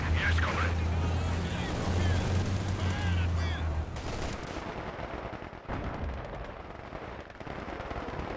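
Machine-gun bursts crackle loudly in a real-time strategy battle, mixed with explosions and dense combat noise, while a commentator talks over the action.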